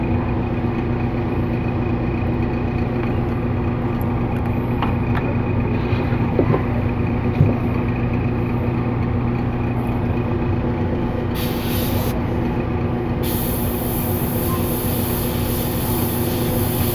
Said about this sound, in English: Because of the fan.